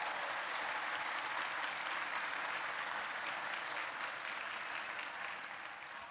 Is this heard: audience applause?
yes